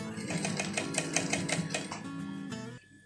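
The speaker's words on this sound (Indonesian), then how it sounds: "ini saya jahit" A sewing machine stitches down a suit pocket flap, running in a steady, close, continuous whir with rapid even needle ticks, then cutting off near the end.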